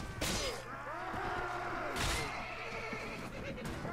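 A horse in the medieval battle game AD1257 lets out a loud, drawn-out neigh as it is killed, with wavering whinnies, thuds and clattering battle noise around it.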